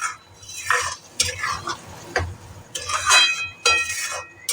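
Ground poppy seed and melon seed paste is stirred in a hot pan over high flame, with irregular scraping and clinking of a spatula against metal and faint sizzling between strokes, close and fairly loud.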